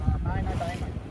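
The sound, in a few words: fishing boat engine running at sea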